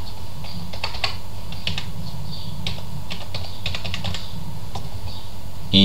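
Keys clatter on a computer keyboard as a phone number is entered into a new contact in a CRM app, irregular bursts of close clicks over a steady low hum, with no talking.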